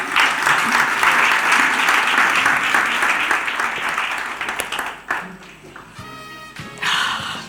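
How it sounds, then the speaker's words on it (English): An audience claps after a keynote speech, a broad sustained round of applause that stays strong for several seconds, then tapers off, with a brief swell returning at the close. "Another round of applause, ladies and gentlemen."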